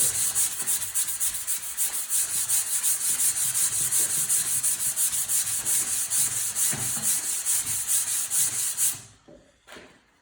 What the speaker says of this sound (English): you want to grab a sanding sponge and give it a light sand